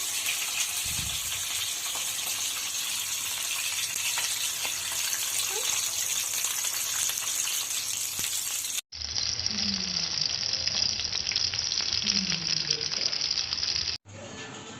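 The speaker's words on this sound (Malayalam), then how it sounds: "മീൻ ഓരോ പീസായി ഈ എണ്ണയിലേക്ക് വെച്ച് കൊടുക്കാം." Fish pieces fry in hot oil, giving a dense, steady hiss that cuts off abruptly twice and resumes, with faint low knocks beneath.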